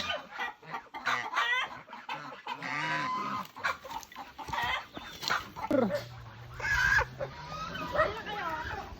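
Chickens in a coop cluck and squawk close by in busy, irregular bursts, with someone speaking intermittently between and over the birds.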